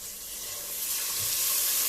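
Ginger garlic paste with a handful each of coriander and mint sautéing for Chennai-style mutton kurma: a bright, steady, close sizzle that swells slightly louder, with no voices.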